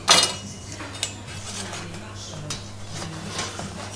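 A thin baked apple tart is set onto a metal wire rack with a sharp metallic clink at the start, followed by a few faint taps and light handling noises in a quiet kitchen.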